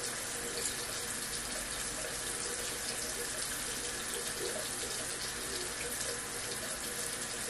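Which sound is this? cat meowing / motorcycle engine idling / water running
water running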